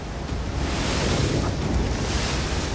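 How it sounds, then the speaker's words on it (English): Ocean waves of an incoming tide washing over a narrow shore, a steady loud roar of surf with wind buffeting the microphone throughout. "the waves have gotten higher, and the land beneath our feet is rapidly disappearing"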